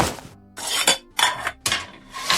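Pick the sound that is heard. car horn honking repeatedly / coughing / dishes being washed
dishes being washed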